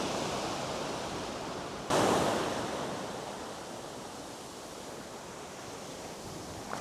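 Sea waves wash onto a fishing beach as the tide comes in, a steady broad roar with a louder surge of surf breaking near the start and then easing back, no voices.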